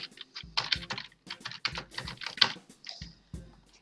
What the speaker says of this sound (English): either paste your own text or you just simply type it in